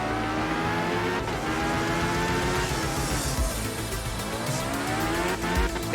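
Rally car in the art of rally game, running the Audi Quattro in a Rally Sardinia livery, with a steady loud engine drone, shifting revs and tire squeal across the run.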